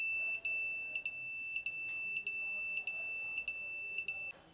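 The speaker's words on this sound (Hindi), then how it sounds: "जैसे ही हम इसको टच करेंगे हमारा अलार्म जो है चालू हो जाएगा।" A loud electronic alarm from a vibration-sensor security system built on an ATtiny85 beeps in a fast, repeating rhythm of shrill pulses when touched, then cuts off abruptly.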